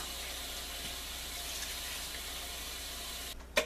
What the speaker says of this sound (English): now I'm going to add some water and let it cook